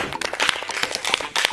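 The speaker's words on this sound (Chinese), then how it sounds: "先给他们鼓掌， 给自己鼓鼓掌" A small group claps together in a debate hall, quick irregular bursts of hand claps lasting a second or so, close and fairly loud.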